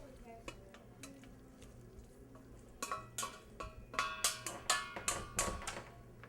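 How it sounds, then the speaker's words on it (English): Noodles tipped into a pasta pan during home cooking, giving a run of close clattering, rattling knocks that grow busier toward the end over low kitchen background noise. "So we're going to take our noodles. We're going to go ahead and dump them in here."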